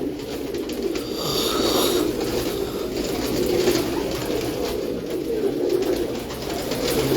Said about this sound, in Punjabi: ਕਬੂਤਰੀ ਦੇਖੋ ਜੀ ਇਹ ਮੀਆਂ ਸਾਹਿਬ ਚੂਈ ਕਬੂਤਰੀ ਹੈ